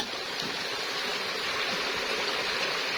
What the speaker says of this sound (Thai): ฟังเสียงน้ำไหลจนๆเลยพี่น้อง